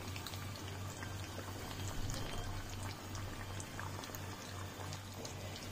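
Chicken triangles frying in hot oil for a crispy snack, a steady dense bubbling crackle with scattered small pops, even and moderately close with no talking.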